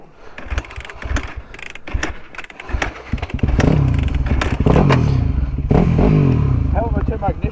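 An enduro motorcycle outdoors, with clatter and fumbling at first, then the engine catching and running in a loud, close, steady roar with throttle blips, and a rider talking over it.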